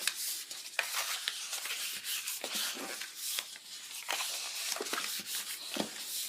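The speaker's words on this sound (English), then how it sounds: "we can go ahead and burnish our score lines on the bigger piece" A burnishing tool rubs steadily along score lines on card stock for a Stampin' Up! gift box, a close, continuous dry scraping with slight stroke-to-stroke variation and no speech.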